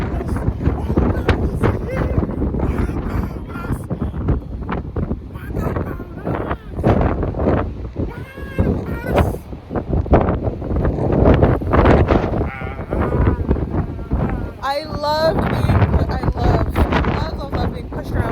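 Strong wind buffets the microphone at a waterfall in Oregon's Columbia River Gorge, a loud continuous rushing roar with gusty surges, while people talk intermittently over it.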